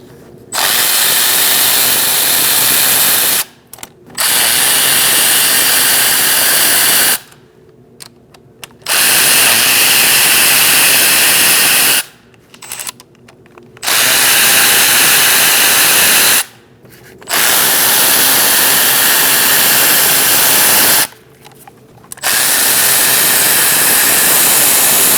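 Intake manifold bolts on a 2008-2014 Mercedes-Benz C300 3.0L V6 are spun out with an E10 socket on a power tool, five long loud whirring runs separated by short pauses.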